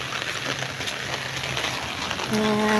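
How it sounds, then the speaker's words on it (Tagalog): Heavy typhoon rain from Typhoon Verbena pours down in a steady, dense hiss that fills the whole span without a break. "Ito namang malakas ang ulan."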